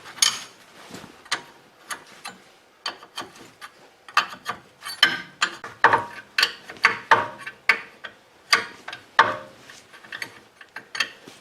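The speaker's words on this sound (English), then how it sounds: "Then we can crank that nut down and it'll pull it up into place." A nut being cranked down onto a bolt with a ratchet wrench, repeated close clicking strokes in an uneven, quickening rhythm, each burst of ratchet clicks separated by short pauses, with no talk.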